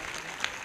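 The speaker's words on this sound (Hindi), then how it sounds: "एक जोरदार ताली बजाकर प्रभु को धन्यवाद करें।" A congregation at a Sunday church service claps loudly together, a short burst of dense applause filling the room.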